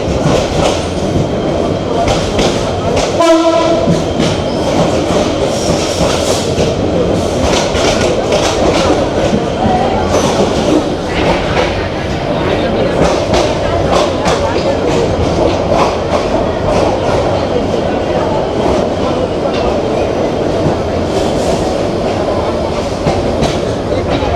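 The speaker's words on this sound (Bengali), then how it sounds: "বিমানবন্দর রেলওয়ে স্টেশনে যে দাঁড়ায় পড়লো আমাদের ট্রেন" The Chattala Express, running from Chittagong to Dhaka, draws to a stop at the airport railway station. A loud, continuous clatter and rumble of wheels and cars lasts throughout, with a brief sharp knock early on and murmuring voices underneath.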